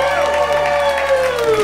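A studio crowd cheers and applauds as a contestant is brought out on a dating game show, a dense, steady wash of claps and whoops lasting throughout, with a tonal jingle running over it.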